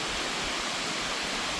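Water flows beside a campsite in Pennsylvania, a steady broadband rush heard close and alone with no voices.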